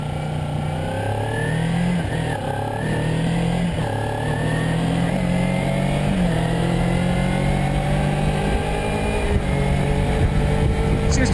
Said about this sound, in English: Seems to accelerate quite easily.